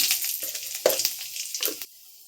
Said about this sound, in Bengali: একটা তেজপাতা দিচ্ছি, তেল গরম হয়ে গেছে।